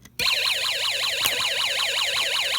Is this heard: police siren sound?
yes